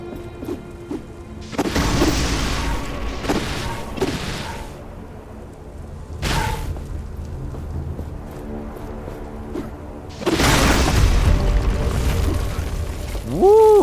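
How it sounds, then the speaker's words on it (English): Stone altar being smashed apart in the action game Atlas Fallen, several heavy crashing impacts and crumbling bursts separated by pauses, with game effects and a rising tonal chime at the end. "Thelos's altars can be destroyed by striking all of the glowing cracks on their surface."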